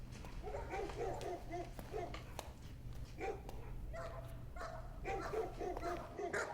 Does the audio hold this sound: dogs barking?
yes